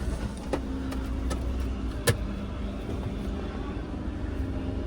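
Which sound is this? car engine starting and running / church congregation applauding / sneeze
car engine starting and running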